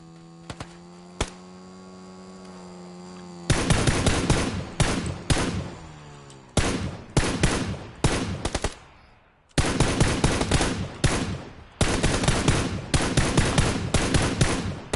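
Submachine gun fire in PUBG on PS4, with rapid loud bursts of shots repeating after a few seconds of steady electrical hum, separated by short gaps.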